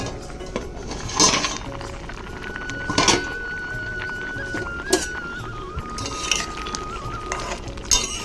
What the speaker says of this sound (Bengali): এখন আমি ঢাকনাটা তুলে দেখব কতটা হলো